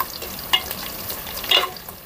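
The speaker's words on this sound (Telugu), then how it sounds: "ఉల్లిపాయలు అయితే దోరగా వేయించుకోవాలి" Onions and green chilies frying in oil, a soft sizzle broken by two brief stirring scrapes of a spoon against the pan.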